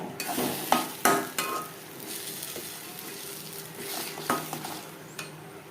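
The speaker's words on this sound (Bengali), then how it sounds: "গ্যাসের ফ্লেমটাকে হাইতে করে দেব হাই ফ্লেমে তিন চার মিনিট নাড়াচাড়া করব" Mashed giant taro paste is stirred in a pan over a high flame, with a low sizzle beneath a few sharp metallic scrapes and knocks of the spoon, followed by softer, steady stirring.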